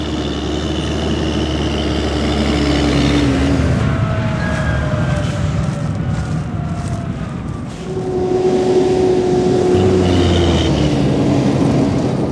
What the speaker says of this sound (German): Am Feldende klappt er wieder zusammen und fährt über die staubigen Wege zurück zum Container.